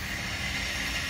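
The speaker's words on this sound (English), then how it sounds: "They're gonna test the engine full power." Aircraft engine on test after a brand-new replacement, run up to full power: a steady, loud roar with a broad hiss and low rumble that holds constant throughout, with no voices.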